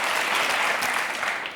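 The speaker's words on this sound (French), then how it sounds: "On vous laisse repartir sur les applaudissements du public." A studio audience at a French television show gives dense, steady applause, close and full, with many hands clapping continuously for the whole short stretch and easing slightly at the end.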